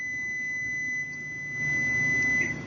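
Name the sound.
buzzer going off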